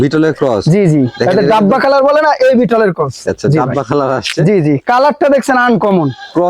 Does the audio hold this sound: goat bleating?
yes